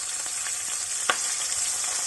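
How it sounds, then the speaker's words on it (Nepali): Two onions, quartered and split, fry in hot oil for restaurant-style paneer chilli, producing a bright, steady close sizzle with a single sharp crackle or stir clatter near the middle and no voices. "अब तेल तातिसकेको छ। मैले प्याज लगाउँदै छु 2टा।"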